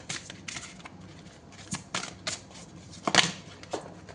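Tarot cards being shuffled and drawn, heard as a string of crisp papery riffles and flicks in irregular bursts, close and fairly quiet, with a louder flurry near the end.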